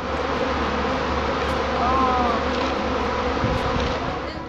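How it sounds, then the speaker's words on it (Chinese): A large swarm of honeybees hums in a field of flowering rapeseed in Luoping, Yunnan, in March, a dense, steady buzz that stays at close range throughout. "真的不敢说这里有多少只蜜蜂啦"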